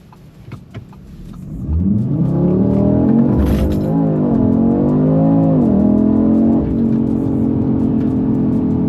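An Audi 8Y RS3 with a Milltek exhaust launches hard from a standstill, its engine note surging loud and close and climbing steadily through the revs before settling into a sustained high drone.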